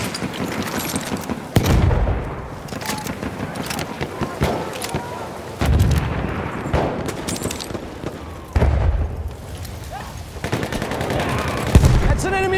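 Machine gun fire in the video game Battlefield 1 on the Amiens map, rapid bursts of shots punctuated by several heavy booms spaced a few seconds apart, with battle voices calling out under the noise.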